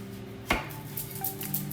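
A knife chops through a small onion on a cutting board with one sharp, close impact followed by faint rustling and light clatter.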